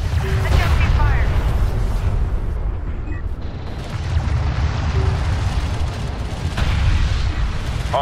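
Battle weapon fire from the strategy game Homeworld: Deserts of Kharak, a steady rumble of distant booms and bursts running the whole time, with radio-style unit voices calling out alerts over it.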